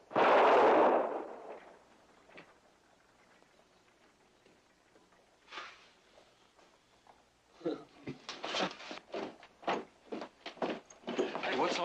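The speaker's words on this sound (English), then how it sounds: "What's all the shooting about?" Gunshots in an old radio drama, a rapid burst of several sharp cracks near the end following a loud opening noise and quieter stretches, with voices around.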